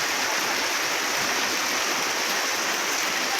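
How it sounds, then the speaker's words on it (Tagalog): Floodwater rushes steadily through a submerged area, a loud, constant broadband roar with no pauses and no voices. "Grabe, grabe yung baha ito."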